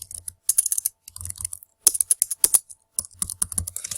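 Fingers type on a computer keyboard at close range in quick bursts of clicking keystrokes, separated by short pauses.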